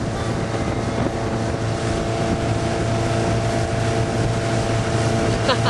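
A motorboat engine drones steadily on Donner Lake in 2008, running loud and continuous close by, with wind buffeting the microphone and water rushing beneath the hull.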